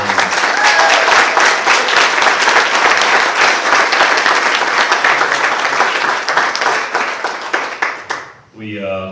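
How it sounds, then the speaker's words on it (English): An audience gives a sustained round of loud, dense clapping that fills nearly the whole stretch before tapering off abruptly near the end, where a voice briefly comes through. "take a round of applause for them one more time."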